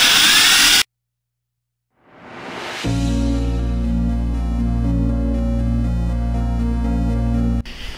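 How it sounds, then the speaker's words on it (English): After a moment of silence, a power drill spins up and runs steadily at one high, constant whine for several seconds, close by, drilling a hole in a 4L60 transmission valve body. "try to drill us a hole right here."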